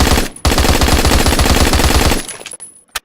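Rapid automatic fire from an AG3 battle rifle in the Phantom Forces video game, a loud sustained burst of evenly spaced shots lasting about two seconds, followed by a short pause and a faint mechanical click.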